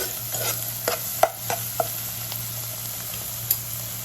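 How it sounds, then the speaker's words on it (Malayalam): Sliced onions with curry leaves sauté in a pan while plantain stir-fry is cooked, giving a soft steady sizzle broken by several sharp spatula scrapes and taps against the pan. "സവാളയൊക്കെ നന്നായിട്ട് വഴണ്ട് വരട്ടെ."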